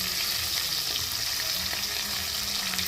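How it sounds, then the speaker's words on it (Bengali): Fish frying in a pan at home, a steady close sizzle and crackle of hot oil running throughout with no talk. "মা এখানে বসে মাছগুলো ভেজে নিচ্ছে।"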